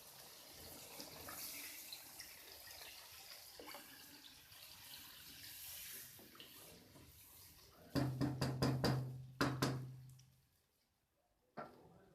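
Water is poured into a cooking pot for vegetable pulao rice: faint background clatter, then a couple of brief, close bursts of pouring and splashing near the end, separated by a short quiet gap.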